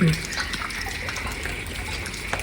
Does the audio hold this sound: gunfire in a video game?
no